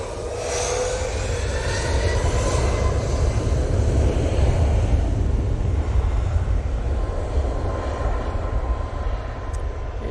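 Boeing 737 MAX 8 airliner rolling down the runway for takeoff at Manchester Airport, a loud, steady jet engine roar with a rising whine early on, holding strong throughout with no talking.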